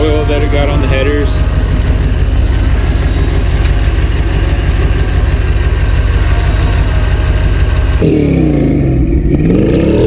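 A Chevrolet C10 truck engine with a newly finished fuel system and oil burning off its headers runs on its own with a loud, steady idle and a rapid knocking pulse, while voices talk over it.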